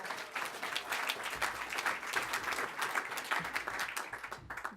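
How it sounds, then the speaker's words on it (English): An audience at the Elmhurst Chamber of Commerce & Industry 99th Awards Gala applauds the mayor. Quiet, steady clapping from a room full of people continues without a break for the whole stretch. "Give the mayor a nice round of applause"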